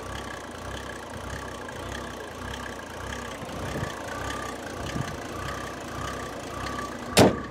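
A Mercedes OM606 diesel engine fitted in a Y61 Nissan Patrol idles steadily with a low, even rumble and slight fluctuation. A brief sharp knock sounds near the end.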